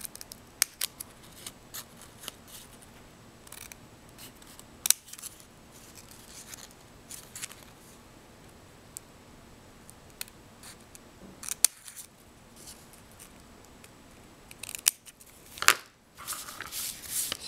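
Scissors cutting origami paper close by: quiet scattered snips and faint rustling of the sheet throughout, with a few sharper clicks near the end, in a quiet room with no talking.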